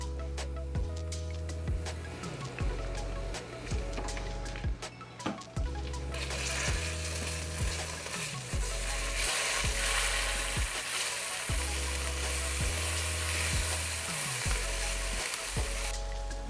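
Doenjang, Korean fermented soybean paste, is added to toasted garlic in a hot pan and sizzles steadily and loudly, the frying swelling after a few seconds, with intermittent stirring scrapes and no talk.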